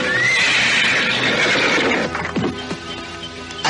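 A horse neighs loudly in a long, descending whinny, followed by a few scraping and shuffling sounds as it settles, with no talking.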